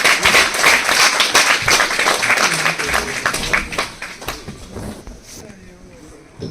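Audience applause welcoming a speaker at an International Women's Day gathering of women advocates, strongest at first with sharp individual claps, then thinning and fading toward the end.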